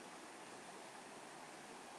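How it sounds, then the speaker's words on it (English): River water flowing past a pedestrian bridge on an autumn day, a soft, steady broadband rush with no breaks, heard alone at a gentle, even level. "Listen to the sound of the water."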